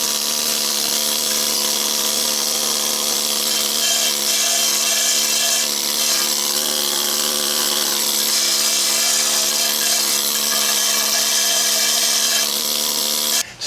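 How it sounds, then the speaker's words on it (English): A pneumatic hammer hammers loose, flaky rust off a Jeep Wrangler JK frame, making a loud, continuous, rapid buzzing clatter that holds steady throughout before cutting off abruptly. "It basically just hammers on the metal and knocks off any of the loose parts."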